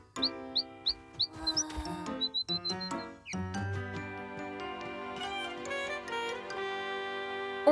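A small bird chirps in short, high repeated tweets, followed by tinkling, chime-like notes and a sustained musical bed in a children's cartoon scene.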